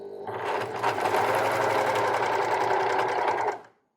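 A serger stitching cotton lycra binding with its knife disengaged runs in one steady, fast, humming burst of about three seconds, close and clear, then stops.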